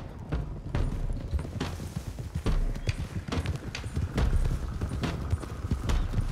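Several horses in Red Dead Redemption 2 set off at a ride, hooves clip-clopping in a quick, dense rhythm close by, with an occasional faint whinny.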